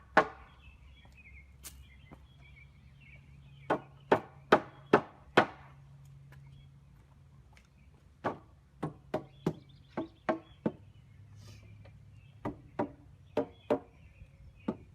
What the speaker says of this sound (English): I used the rubber mallet to get the boards as close together and as even on the ends as I can